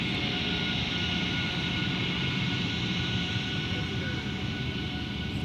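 A United Airlines A320 jet taxis for departure at Minneapolis–St. Paul airport, a loud, steady engine roar and whine holding constant from start to finish with no break.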